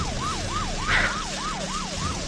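A police patrol car siren wails in a fast, repeating up-and-down cycle during a chase. It sounds close and loud over a steady rumble of traffic, and a brief burst of noise cuts in partway through.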